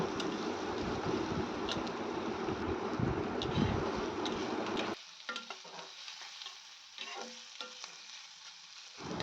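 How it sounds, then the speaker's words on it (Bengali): Chopped chillies and raisins frying on high flame in a pan for chirer polao, stirred as they cook: a loud, steady sizzle for about five seconds, then a quieter crackle broken by scraping clinks. "দিয়ে এবার আমি হাই ফ্লেমে দিয়ে এটাকে ভালো করে ভেজে নেব।"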